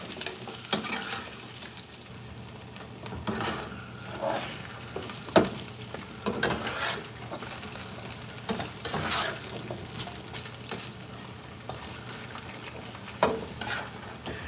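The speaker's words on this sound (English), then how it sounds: "I get them all stirred around, make sure they all have a little bit of oil on them." Breakfast food frying in oil in a pan on a gas stove, with a steady close sizzle and intermittent stirring scrapes and clinks throughout.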